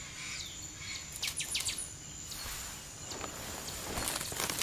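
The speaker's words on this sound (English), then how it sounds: "So there's a couple of birds singing in the background here in this beginning part that I'm hearing." A couple of birds chirp and sing in the background in short, scattered calls over a soft outdoor ambience, with faint footsteps nearby.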